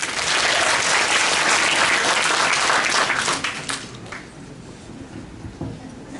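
Audience applauds at a girls' high school bilingual class showcase, loud dense clapping for about three seconds before thinning and fading to quieter scattered claps.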